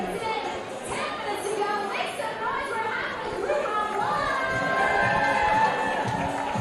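Crowd at a live art battle event in Toronto, a busy mix of chatter, cheers and shouts building gradually, with voices talking throughout the din.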